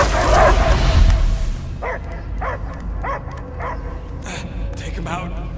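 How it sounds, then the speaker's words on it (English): Dogs bark in a video game scene, several separate yips and bow-wows spaced over a few seconds at moderate distance, after a loud burst of game sound at the start. "I hear only barking"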